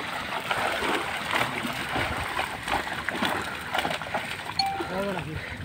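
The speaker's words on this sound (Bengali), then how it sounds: "মাছের লাফালাফি শব্দে কান ভরে যাচ্ছে" Fish leaping and splashing in a huge 100-bigha pond as a net is hauled in, a dense churn of water slaps and splashes at close range, with people talking over it and a faint tonal sound near the end.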